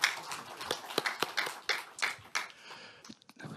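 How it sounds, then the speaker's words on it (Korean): Sustained applause from a room of party lawmakers congratulating a newly elected floor leader, dense irregular clapping throughout that thins out and fades near the end. "여러분 다시 한번 축하의 큰 박수 보내주십시오."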